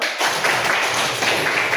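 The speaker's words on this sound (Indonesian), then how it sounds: "Oh iya, tepuk tangan dulu." A group of listeners claps together in a brisk, steady burst lasting under two seconds, close and fairly loud, with no talking over it.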